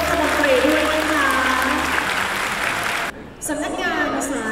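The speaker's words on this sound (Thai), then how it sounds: "ขอเสียงปรบมือต้อนรับท่านนายกรัฐมนตรีด้วยนะคะ" Audience applauding to welcome the Prime Minister at an International Anti-Corruption Day event, steady loud clapping that cuts off abruptly, then a brief resumption of scattered claps.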